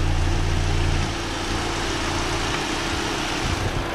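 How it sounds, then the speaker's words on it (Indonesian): A 2013 Chevrolet Spin LTZ with a petrol engine and manual gearbox idles steadily, a smooth, even hum with a low throb, loud and close under the open bonnet, easing slightly in level after the first second. "nah ini untuk suara mesinnya masih sangat halus sekali bagus"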